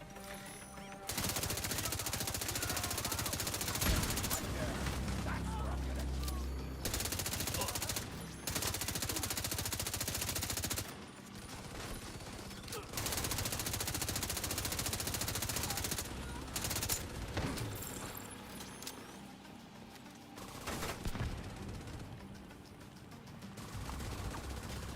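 Bursts of rapid gunfire from a video game played during a livestream, loud and dense, coming in long stretches with brief pauses between them, with some talk mixed in.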